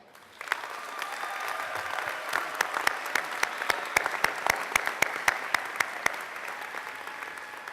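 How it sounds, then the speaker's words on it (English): Applause for new alumni at an A.T. Still University commencement ceremony, a steady patter of many hands in a hall with sharp individual claps standing out, lasting throughout at moderate level. "Let's have another round of applause for our new alumni."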